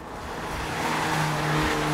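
A Volkswagen Golf R Mk8 fitted with AST 5100 competition coilovers drives over a big bump on a twisty road, a steady, rising engine and road rumble heard from inside, with no speech.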